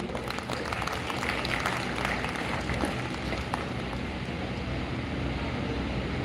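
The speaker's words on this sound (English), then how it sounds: "Huge round of applause, please." Audience applause at a conference inauguration ceremony: a dense, even wash of many hands clapping at once, held steady for several seconds, moderately distant and fairly soft in a large hall.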